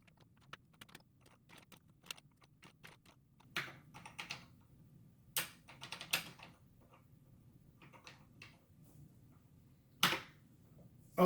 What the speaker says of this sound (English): So let's type this one in now.